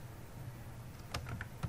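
Quick bursts of typing on a computer keyboard, a handful of light clicking keystrokes clustered near the end of a brief, quiet stretch.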